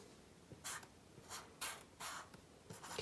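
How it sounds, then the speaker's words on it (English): A pen or marker writes words on paper at the centre of a drawn tree for a watercolor activity, producing close, quiet scratchy strokes in short bursts separated by brief pauses, with no talking. "in the center of your tree, I want you to write the words"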